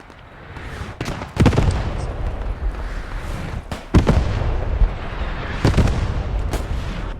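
Gunfire from a World War II-style multiplayer shooter match, likely a machine gun, fills the scene as a continuous dense crackle of shots, with several louder sharp bursts and booms standing out at intervals.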